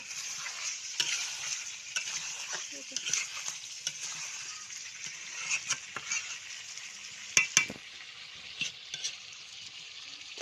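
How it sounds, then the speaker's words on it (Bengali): Potatoes fry and sizzle in a pan, a steady bright crackling hiss with scattered clinks and scraping stirs, fairly close and alone. "আর এই আলুটা হবে ভাজা"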